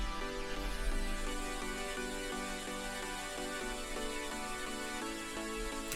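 Sustained synth chords played without sidechain compression, holding a steady, continuous level with lower tones that stay full and even, clean and alone with no voice.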